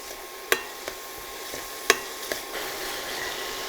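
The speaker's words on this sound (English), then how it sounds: "Let's saute this very well." Spicy beef cutlet filling for Kerala bakery-style cutlets sautéing in a pan, a close steady sizzle punctuated by two sharp spatula scrapes and a few lighter taps.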